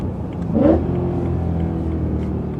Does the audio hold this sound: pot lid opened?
no